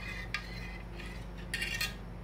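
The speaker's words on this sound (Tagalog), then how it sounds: "Tapos, haluin ng continuous lang" A spoon stirring avocado ice candy mixture in a bowl, a handful of light metallic clinks and scrapes against a low steady hum, close and quiet with no talking.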